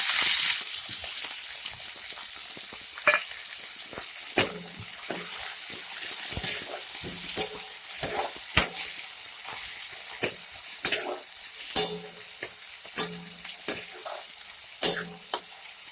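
Onion and tomato fry in a pan with a steady sizzle, broken by a series of sharp, close spoon-scrapes and stirs that come more often toward the end.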